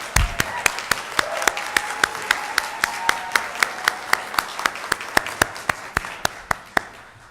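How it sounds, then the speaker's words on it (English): An audience applauds for graduates at a master's commencement ceremony, though the sound is a sparse, slow run of distinct claps, evenly spaced and fairly close, with faint talk underneath. "One more round of applause for our graduates and family."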